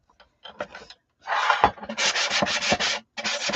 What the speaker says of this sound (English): Maybe sandpaper is the best to take it off with